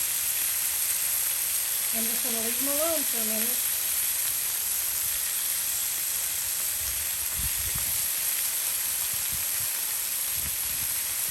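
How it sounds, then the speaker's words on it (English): Cheesesteak meat frying on a Blackstone griddle gives a constant close sizzle and hiss, with someone speaking briefly over it early on before the steady sizzling carries on alone. "Sizzle, sizzle."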